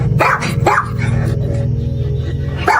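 A dog barks repeatedly and loudly nearby, sharp barks at the start and end with whining in between, over a steady low hum.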